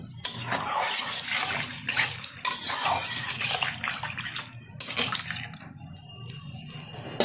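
Nut-rinse water is poured from a mixer jar into a cauliflower curry in the pan, a splashing, gurgling pour in several bursts with a clink of the jar, close up.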